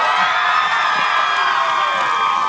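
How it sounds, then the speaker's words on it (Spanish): Loud, sustained cheering and shouting from a studio audience at a Mexican late-night comedy show greets Costel, a dense crowd roar with excited whoops and no break. "El aplauso para Costel."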